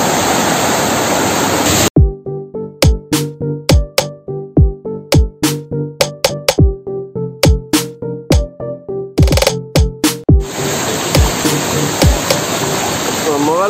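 The Marottichal waterfall roars as a steady, loud rush of water at the start and again at the end. A stretch of plucked, percussive music replaces it in between.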